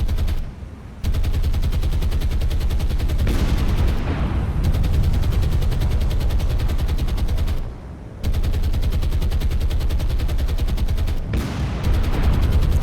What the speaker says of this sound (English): Oh, the gun's opening up